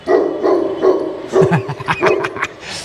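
A dog barks several times in a short burst, and its rhythmic barks mix with a voice speaking close by.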